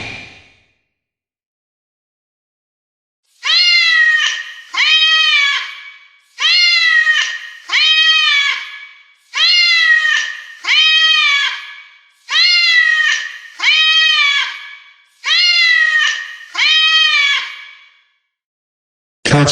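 Domestic cats meow in paired calls, five pairs at a steady rhythm, each call loud, close and clear against silence.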